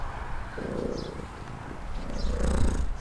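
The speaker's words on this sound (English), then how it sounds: "I've also got a cat." A cat purrs steadily up close in a quiet room, a low continuous rumble that swells slightly toward the end.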